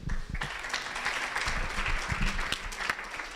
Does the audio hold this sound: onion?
no